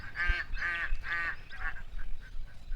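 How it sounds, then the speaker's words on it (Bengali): Several ducks on a village river in Bangladesh, a run of loud nasal quacks and honks in quick succession that thin out into fainter, scattered calls. "দেখতে পাচ্ছেন নদীতে হাঁস"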